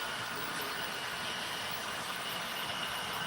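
An ethanol freight train idles in a Union Pacific railroad simulation, producing a steady, even rumble and hiss that holds without change throughout, moderately loud with no talk.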